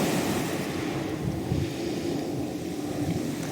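Sea waves wash in a steady, broad roar mixed with wind buffeting the microphone, constant and fairly loud with no breaks, along the Mediterranean coast near Antalya in May; no one speaks.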